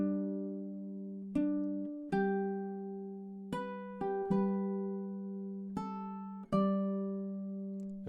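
Ukulele playing Amazing Grace with a drone note: a slow melody of separate plucked notes, each ringing and fading over a sustained open-string drone, clear and fairly quiet, with no talk.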